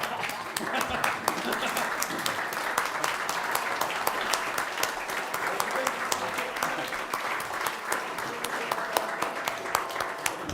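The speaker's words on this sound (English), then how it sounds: "if you could all stand and give him a round of applause" Audience applause at a town council meeting as a new public works director is introduced, steady dense clapping from a roomful of people, sustained for about ten seconds at moderate distance.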